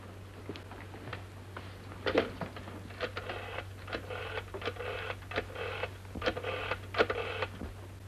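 An old rotary telephone being dialed in a vintage British film, a run of clicking dial pulses in bursts over steady mains hum, with no talking.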